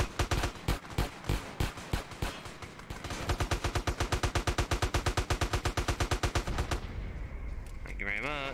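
Gunfire in a gangster mod for GTA San Andreas: a few spaced single shots are followed by a long, loud, rapid automatic burst, and the firing then breaks off into quieter noise.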